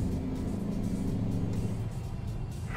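In American Truck Simulator, a car passes the player's truck on a road with a steady low engine rumble and whir that stays continuous and moderately loud throughout, with no talking.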